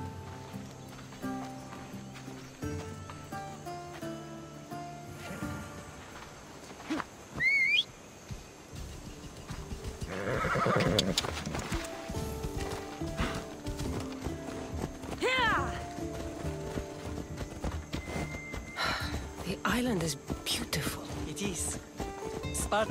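In Assassin's Creed Odyssey, horse hooves clip-clop steadily along with an occasional neigh, while voices talk over the ride and ambient music plays underneath.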